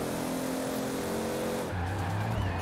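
A car with a 2JZ engine in all-wheel drive, racing in Forza Horizon 4. A continuous loud engine drone runs with tire noise, and the engine pitch drops and shifts partway through.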